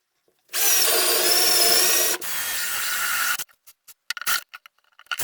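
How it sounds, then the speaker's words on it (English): A power drill bores pilot holes for buttons in a wooden puzzle box, two loud whirring bursts close up, then a series of short scrapes and knocks as it stops. "Would be pre-drill 4 holes for the buttons."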